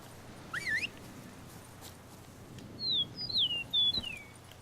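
Birdsong from The Witcher 3: Blood and Wine, with a quick rising warble followed by several clear, sliding whistled chirps against a soft, steady ambient background.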